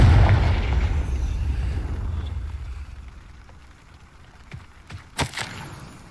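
A Confringo blasting spell explodes in a Harry Potter video game: a loud, rumbling low boom that fades slowly over several seconds, followed by a few faint crackles and a brief sharp burst near the end.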